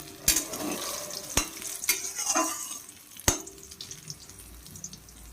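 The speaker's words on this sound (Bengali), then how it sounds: "বেগুনটা ভাজি হোক" Eggplant frying in oil in a pan, a soft close sizzle punctuated by several sharp clacks of a utensil against the pan and brief scraping bursts.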